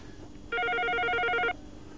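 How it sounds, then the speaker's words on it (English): A telephone in a restaurant hideout rings once, a single bright electronic trill lasting about a second, clear and fairly loud against a quiet background. "the phone still goes down here"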